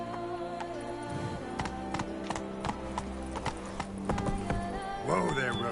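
Roach, a horse in the video game Witcher 3, trots with steady clip-clopping hooves over a layered game soundscape of music and ambience, with a brief whinny-like sound near the end.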